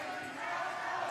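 Navy supporters cheering in an indoor arena at a wheelchair rugby final, a steady, far-off crowd roar that holds without breaks for about a second.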